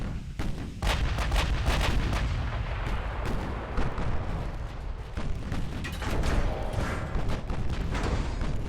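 Battleship main guns thunder in the naval combat game Ultimate Admiral: Dreadnoughts, a dense, continuous barrage of loud booming salvos that overlap one after another with no pause.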